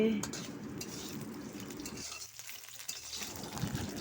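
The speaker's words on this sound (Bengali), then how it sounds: "দিয়ে দেওয়ার পরে একটু নাড়ব, একটু নেড়ে চেড়ে।" Five-spice (panch phoron) and chillies stirred in a pan with a utensil, quiet scraping and clinking against the metal over a faint sizzle, softer for a moment midway and with no talking.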